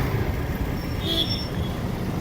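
Road traffic heard while riding a motorcycle through slow, congested traffic: a continuous low rumble of engines and wind with faint higher tones from nearby vehicles, and no talking.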